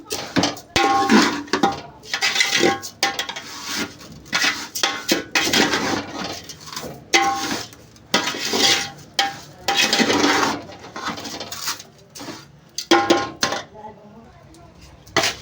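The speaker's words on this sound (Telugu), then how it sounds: "ఇలా ఫ్రై చేసుకోవడమే మంచి కలర్ వచ్చే వరకు అయితే మొత్తం అన్ని ఫ్రై చేసుకోవాలి" Semiya vermicelli frying in a pan for semiya kesari, with a metal spoon repeatedly scraping and clanking against the pan in busy, uneven bursts, loud and close, dying down near the end.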